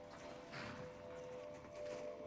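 Faint, steady clip-clop of horse hooves walking at a slow pace in the video game Skyrim VR, with a soft tonal hum in the background.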